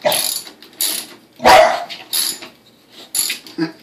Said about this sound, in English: Now he's barking at air bubbles.